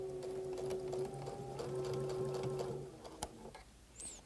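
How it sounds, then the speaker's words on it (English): A sewing machine chain sewing quilt pieces onto an anchor cloth, running in a steady, close whirring hum for about three seconds before stopping, followed by a click and some handling sounds. "we're going to chain sew about three of these together to save time"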